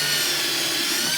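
A power drill re-drilling a hole while fitting a carbon fiber splitter to a 1990-93 Mustang LX, a steady whirring buzz for a little over a second.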